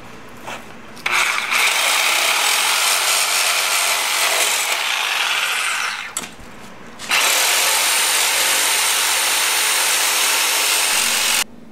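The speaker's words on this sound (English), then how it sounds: "While I've got the saw out, there's a few more things to get rid of here." A power saw cuts off the battery tray and coolant bottle tray of a Honda Sabre motorcycle, a loud steady broadband grinding roar in two long runs separated by a brief pause near the middle.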